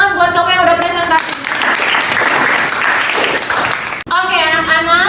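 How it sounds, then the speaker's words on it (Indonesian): Students in a classroom clap together after a group presentation, a bright, dense burst of applause lasting several seconds, with a teacher's voice speaking just before and just after it. "tepuk tangan buat kamu yang udah presentasi."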